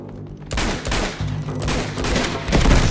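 Dense, loud gunfire in the video game Uncharted 2: continuous overlapping bursts from several weapons, close and heavy, running through the whole clip.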